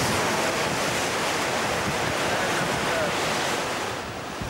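Coastal wind where Kilauea lava flows into the sea, roaring and buffeting the microphone as a constant broadband rush blended with crashing surf, loud and unbroken for the whole stretch.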